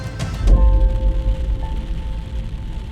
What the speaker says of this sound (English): it's raining and storming